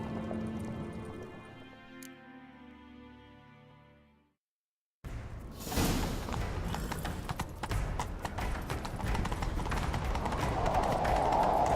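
A horse gallops in a rapid, steady clip-clop rhythm, loud and close, after a brief pause in a scored scene from the video game The Witcher 3: Wild Hunt.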